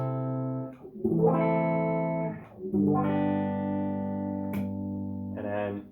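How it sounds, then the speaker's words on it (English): An electric guitar through a distortion pedal plays sustained, heavily saturated chords from a song, ringing loud and close with short pauses between chord changes. "And then pedal goes off, and then I switch to distortion."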